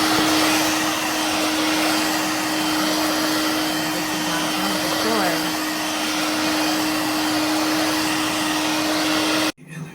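A Hoover Dirt Devil Vibe corded stick vacuum cleaner runs loud and close with a steady whining motor drone, then cuts off abruptly near the end.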